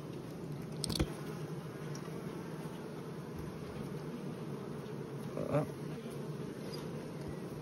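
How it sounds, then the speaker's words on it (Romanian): A honeybee buzzes steadily close by among lime trees in bloom at an apiary, a continuous low hum with a couple of brief louder passes. "ia uitați aici, albina"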